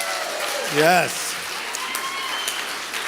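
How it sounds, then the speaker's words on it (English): An audience at a couples conference session claps. The applause is a steady, hissing wash, and a voice briefly speaks over it. "give yourself a round of applause too"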